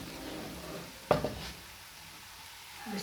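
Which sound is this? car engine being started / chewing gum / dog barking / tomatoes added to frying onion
tomatoes added to frying onion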